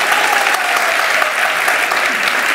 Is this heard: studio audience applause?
yes